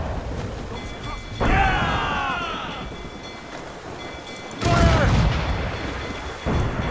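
Ship cannons fire in Assassin's Creed Rogue, three deep booming blasts a few seconds apart with rumbling tails, mixed with shouted voices and sea noise.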